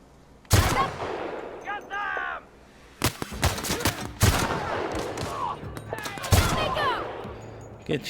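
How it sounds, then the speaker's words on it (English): Sniper rifle shots ring out in The Outer Worlds, several sharp loud cracks spaced a second or so apart, with crackling echoes and game effects between them. "Gets shot in the face with a sniper rifle, somehow still stands."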